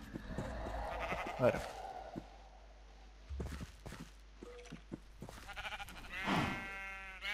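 Sheep in a Terraria/Minecraft-style video game bleat several times, short wavering calls between stretches of someone talking.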